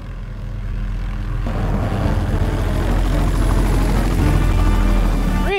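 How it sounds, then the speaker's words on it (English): A helicopter in the game Aconcagua, its rotor thrum and engine drone swelling steadily louder as it draws nearer, with no talking. "It's a helicopter. It's the sound of a helicopter."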